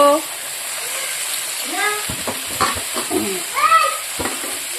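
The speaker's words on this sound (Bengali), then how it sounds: "চলো এবার আমি শাকটাও এই মাছের মধ্যে দিয়ে হালকা ফ্রাই করে নেব" Chopped greens are lightly fried with fish or shrimp in a pan, giving a steady hiss and sizzle with stirring scrapes under a voice.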